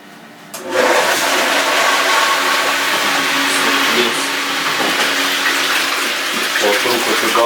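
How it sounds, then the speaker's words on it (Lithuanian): An electric water pump starts up abruptly, filling a hydrophore pressure tank with water. A loud, close, steady rush of flowing water continues without a break. "Ir jungsim siurblį į elektrą."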